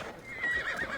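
A short, high horse whinny with a few clopping hoofbeats beneath it, brief and fairly close, in the video game Assassin's Creed Valhalla.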